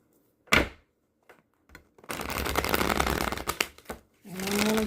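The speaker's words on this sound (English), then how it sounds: "One more shuffle." Tarot cards shuffled by hand, a sharp riffle and a few soft taps, then a longer fluttering shuffle run and a final riffle, close and fairly quiet.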